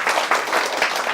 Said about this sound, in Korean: 이제 박수 한번 쳐보세요.